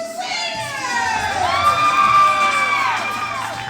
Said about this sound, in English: The fans cheering away